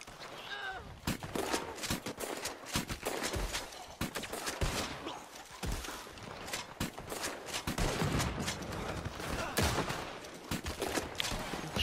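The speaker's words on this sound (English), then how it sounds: "who's shooting me?" Gunfire in the video game Red Dead Online, repeated sharp shots and rapid bursts scattered across the whole stretch, some close and loud, others further off.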